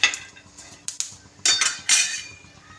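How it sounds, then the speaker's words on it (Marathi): Peanuts and green chilies dry-roasting in a pan for Maharashtrian thecha, with a spatula scraping and clinking against the metal in several bursts over a soft background. "शेंगदाणे मिरच्या छान अशा खरपूस होईपर्यंत भाजून घ्यायच्या"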